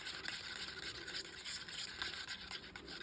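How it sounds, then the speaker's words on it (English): PU resin being stirred in a cup, a steady close scraping and rubbing swirl that runs continuously with no talk. "we're just going to stir this up"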